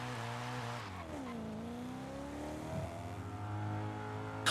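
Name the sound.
BMW M5 car driving in Forza Horizon video game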